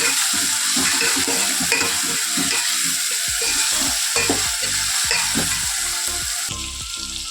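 Curry for puri frying in a pan at home, with a loud, dense, steady sizzle and repeated scraping stirs of a spoon, close and unbroken, no speech.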